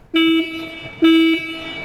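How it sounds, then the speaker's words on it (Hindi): Two short, loud horn beeps from a 2025 Yezdi Roadster motorcycle, close by, each a bright buzzy tone with a brief pause between. "लाउड हॉर्न है।"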